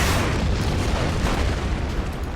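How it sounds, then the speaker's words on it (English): A rocket strike lands in a World War II strategy game, giving a dense, continuous rumbling boom that stays loud and even throughout, with no speech over it. "let's hit these guys with the rockets"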